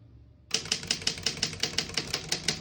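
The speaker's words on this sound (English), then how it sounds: "We're going to keep it on single and finish typing." A 1937 Underwood No.6 desktop typewriter is typed on after a quiet start, giving about a dozen crisp, evenly spaced key strikes in a steady rhythm, close and clear.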